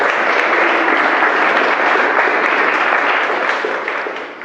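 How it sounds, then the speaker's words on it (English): Wedding guests clap together in a sustained burst of applause, loud and even, fading a little at the end. "give her a round of applause"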